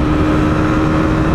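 A KTM 200 Duke motorcycle engine holding a loud, steady, buzzing drone close up while accelerating hard through the gears, with no voices.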